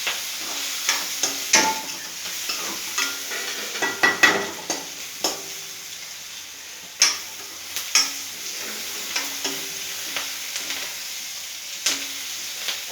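Chopped bottle gourd fries in a pan as it is stirred, with a soft sizzle beneath scattered scraping clicks and knocks of the spatula, close up and without talk.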